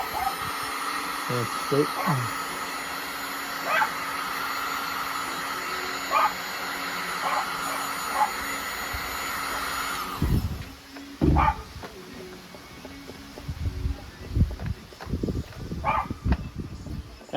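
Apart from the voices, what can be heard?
heat gun heating adhesive on Can-Am Ryker tank protector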